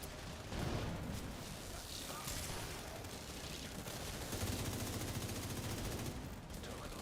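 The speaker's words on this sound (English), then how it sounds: "You can shoot the boxes." Rapid gunfire rattles through a firefight in The Division 2 as boxes are shot, with continuous bursts of shots and muffled impacts, fairly quiet and without talk.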